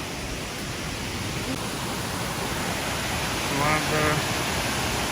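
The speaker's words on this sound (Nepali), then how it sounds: "पानी झर्ना यही हो" Steady rushing water, a broad continuous roar like a nearby waterfall, with a faint voice briefly audible near the end.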